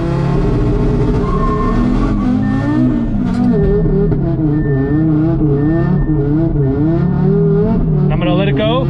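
An Audi RS3 engine roars at high revs with wavering pitch during a burnout at a track, rear tires spinning and squealing, loud and close, with a voice talking over it.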